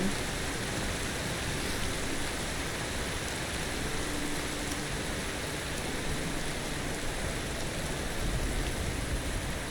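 Steady rain falls at night in the video game Enderal, a dense, even hiss of drops on surfaces that stays constant and moderately loud with no other sounds.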